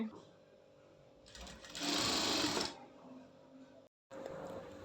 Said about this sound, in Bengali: এখন এই যে আর্ম হোল যেটা আছে সেটা কিন্তু এই ডাবল পার্টের মধ্যে আমি সেলাই করে নিব